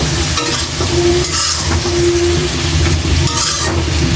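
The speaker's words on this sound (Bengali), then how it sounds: "এগুলো ভালো করে এখন কষিয়ে নেব" Chili powder, cumin powder and salt are sautéed in a pan for a flat bean and catla fish curry, a loud continuous frying hiss with scraping stirs throughout.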